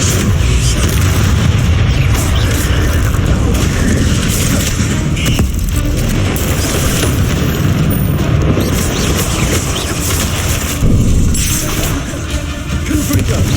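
Loud, continuous booming blasts of the Confringo fire spell in the Hogwarts Legacy video game, a dense rumble of explosions and bursts filling the whole stretch with a brief lull near the end.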